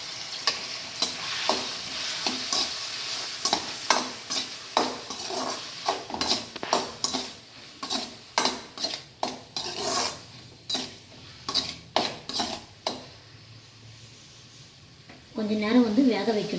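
Onions frying in a pan with green chilies for a Tamil egg pasta, a soft sizzle under repeated sharp scrapes and clinks of a spoon stirring against the pan, with a louder burst of sizzling at the end.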